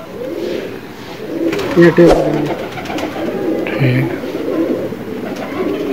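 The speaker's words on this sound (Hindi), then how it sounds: "बहुत ही प्यारा कबूतर है" A pet pigeon held in someone's hands coos softly in short throaty bursts, close by, with people chatting around it.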